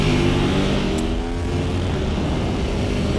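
Engine roar of a 2016 Aprilia Tuono V4 1100 Factory motorcycle accelerating hard, a loud, steady, close, throaty drone that holds strong throughout with no talk over it.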